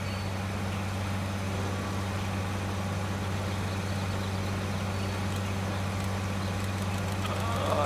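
A tractor engine in Farming Simulator 19 idles with a steady low drone and hum, constant throughout, with a slight rise in revs at the very end.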